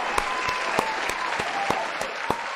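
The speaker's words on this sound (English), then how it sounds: "this man a nice round of applause that he deserves." Applause during a comedy advice podcast episode, heard as a string of sharp, distinct claps at a fairly even rhythm, close and moderately loud, over a low background.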